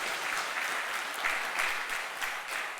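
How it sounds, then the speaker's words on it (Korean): A church congregation applauds steadily at a Sunday service, a dense even wash of clapping filling the room, with no talk over it. "우리 박수로 한번 격려하시겠습니다."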